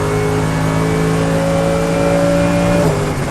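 A Mercedes-AMG GT3 race car engine at full power on the Portimão circuit, loud, steady and close, with its pitch rising smoothly before dropping briefly near the end as it shifts.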